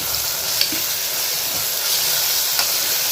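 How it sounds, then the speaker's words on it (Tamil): Tomatoes and green chili sautéing in a pan for beef gravy, a steady close sizzle and hiss with faint stirring scrapes throughout. "ஒரு பச்சை மிளகாய் சேர்த்து அதோட நல்லா வதக்கிக்கணும்"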